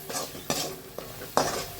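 Gravy for eggplant fry sizzling in a pan while a spoon stirs it in four distinct scraping strokes over a constant frying hiss, close and clear with no talking.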